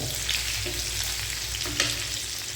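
Onion, green chilies and salt frying on low heat in a pan, a dense, even sizzle with occasional soft stirring clicks, close and steady with no talking.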